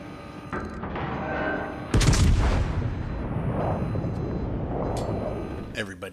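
Main guns of an Iowa-class battleship booming in World of Warships: Legends, a heavy broadside blast with a long rumbling tail that spills out over the continuing battle noise, with someone talking throughout.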